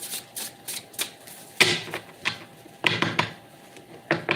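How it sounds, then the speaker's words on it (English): A deck of tarot cards shuffled by hand nearby, crisp riffling bursts and taps in an irregular rhythm, a few sharper snaps standing out, no voices. "One more shuffle."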